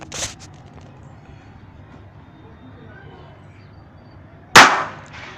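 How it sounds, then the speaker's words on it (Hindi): A homemade matchstick bomb firecracker goes off with one sharp, loud blast after a long quiet stretch of faint background hiss, preceded by a softer pop at the start. "हम माचिस बम को इनसे भी जला सकते हैं और कुछ इस तरह भी जला सकते हैं।"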